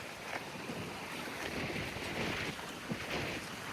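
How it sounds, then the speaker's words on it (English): Strong wind at Bewl Water reservoir blows steadily with low rumbling gusts, a constant rough rush outdoors with no one talking. "it's getting really windy"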